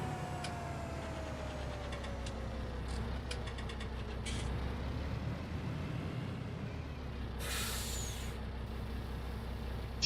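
A vehicle engine in Farming Simulator 19 hums low and steady throughout, with a falling whine, faint clicks and a short hiss of air near the end.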